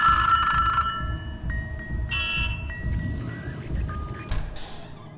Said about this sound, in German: Ja, Telefon.